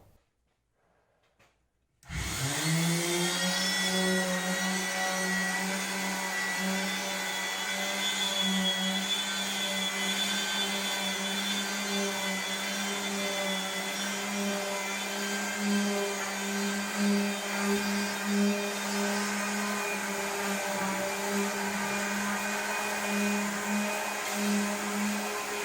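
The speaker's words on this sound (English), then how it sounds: "I got a standard palm sander with 80 grit on here." A palm sander fitted with 80 grit sandpaper starts up after a short quiet moment, then runs with a steady, loud whine and buzz throughout, its pitch holding constant.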